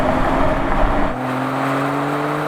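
A BMW M340d diesel touring car's engine roars loudly for about a second in a drag race, then drops to a lower steady hum as the vehicle pulls away.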